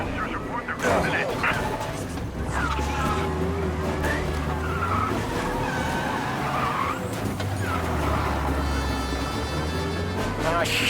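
A car chase with police in Mafia Definitive Edition sounds as engines roar and tires skid and squeal continuously, with scattered impacts and gunshot-like bangs.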